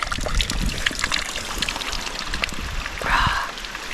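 Water trickles and splashes steadily along a mountain stream in the Maritime Alps, a continuous close, bright babbling with small irregular drips and gurgles throughout and no voices.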